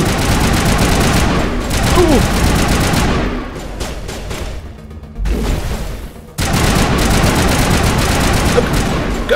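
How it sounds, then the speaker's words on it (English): Gunfire in the Mass Effect video game, with dense sustained bursts of shots from several weapons, briefly thinning in the middle before the loud volleys resume. "What are you guys shooting at?"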